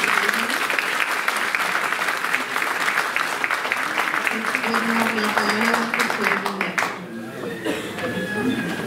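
A hall audience at a student award ceremony applauds loudly and continuously for several seconds, the clapping thinning toward the end as scattered voices and chuckles come through.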